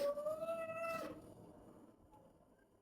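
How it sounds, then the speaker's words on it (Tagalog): A pet cat lets out one loud, drawn-out meow close by, cutting off after about a second and leaving a quiet room. "Kalokohan talaga yung aking pusa."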